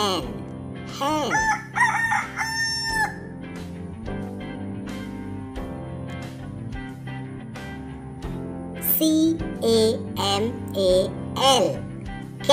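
A rooster crows loudly near the start, followed later by bursts of hen clucking over a steady musical backing.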